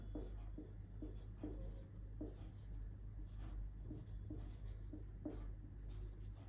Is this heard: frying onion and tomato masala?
no